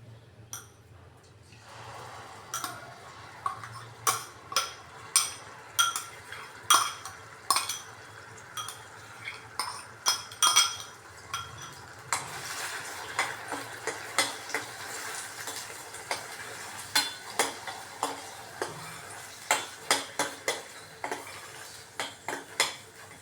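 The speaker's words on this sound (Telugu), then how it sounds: "దీన్ని వేసి నూనెలో వేసి వేయించుతాను" Raw onion paste fries in hot oil with a faint sizzle underneath, while a metal spoon stirs it and taps the pan in frequent, irregular clinks, close and clear, with no talking.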